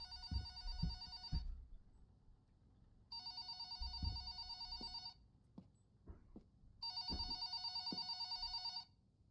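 A telephone rings in three long bursts separated by quiet gaps, with scattered thumps and clatter in between; moderately loud and near.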